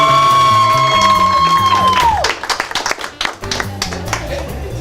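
Studio audience at a talk show warming up on cue, breaking into loud cheering, whoops and clapping after a sustained tone and music, bursts of claps rising and falling.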